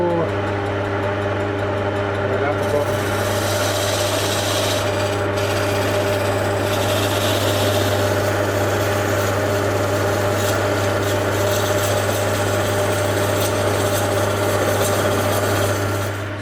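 Skew chisel cutting wood on a lathe, a steady rasping scrape held over the constant hum of the running lathe motor, close and fairly loud throughout with no talk.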